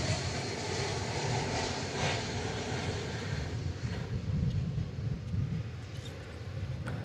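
An American Airlines Airbus A321 touches down at DFW Airport, a rushing, rumbling roar of engines and airflow at moderate distance, fluctuating in strength with low-end surges partway through and no voices present.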